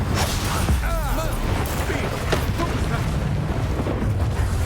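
Incendio fire spell blasting during combat in the video game Hogwarts Legacy, a dense, steady roar of fiery noise with booming low end that fills the whole stretch, with brief whooshing flourishes partway through.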